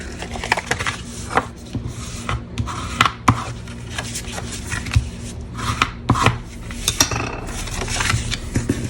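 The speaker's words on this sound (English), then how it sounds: "Now I'm going to fold and burnish." Card stock is folded along score lines and burnished with a crafting tool, making a series of close, crisp taps, clicks and short rubbing strokes in an irregular rhythm.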